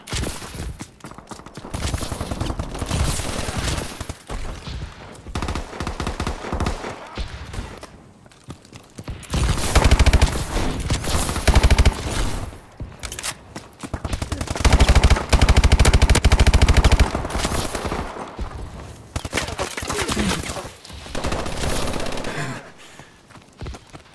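Dense video game gunfire goes on almost without a break: rapid automatic bursts and heavy volleys that swell loudest in several stretches. The shots are close and loud throughout.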